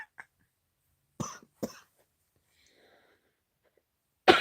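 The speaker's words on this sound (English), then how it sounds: "And then I start coughing and singing." Two short, sharp coughs come from a person at a craft desk, close and isolated against near silence, with a brief throat noise at the start and end.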